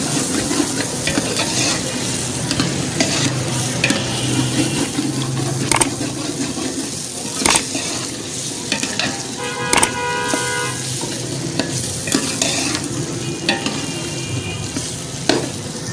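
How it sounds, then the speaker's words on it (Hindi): Peas and potatoes frying in a pan for aloo matar, a constant loud sizzle with scraping and stirring clatter from a utensil throughout. "अब मैं डालने लगा हूँ ये जो मटर और आलू लेके रखे थे हमने। अब 4 से 5 मिनट इसको हमने होने देनी है इसी में।"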